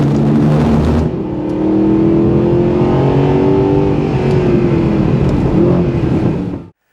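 Mercedes SLS Black Series or Nissan GT-R sports car engine roars loudly at close range, revving up through a long rising pull before the sound abruptly cuts out.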